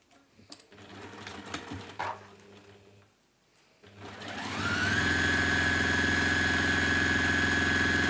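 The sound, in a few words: sewing machine sewing a quarter-inch seam on a fabric pouch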